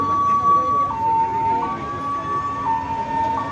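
A Renault 81 ambulance in a vintage car parade sounds its wailing two-tone siren nearby, alternating steadily between high and low notes over a rumble of traffic while people talk.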